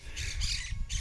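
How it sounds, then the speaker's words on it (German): Amazon parrots calling from the trees in Paraguay, three harsh raspy squawks in quick succession, loud and fairly close over a low outdoor rumble. "Da oben, ich hoffe man hört es, sind die Papageien, die Amazone."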